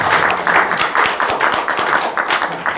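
An audience claps for the presenters at an academic symposium, a dense run of applause that stays even and fairly close for a few seconds.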